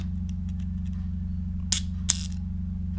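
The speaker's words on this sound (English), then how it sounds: "We can cock the shutter, release it," Shutter of a Fenix I film camera, Polish-made, being cocked and released on the bench: two sharp mechanical clicks about a third of a second apart, close and crisp over a steady low hum.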